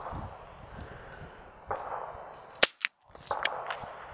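A subsonic .223 rifle fires at an outdoor range, a sharp crack followed by a faint, barely audible tick of the bullet striking a distant target, all over low wind and background hiss.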